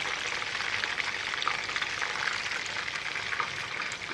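Chicken pieces fry and brown in a pan for chilli chicken, giving a steady, even sizzle with small pops and crackles that continue throughout without any talk.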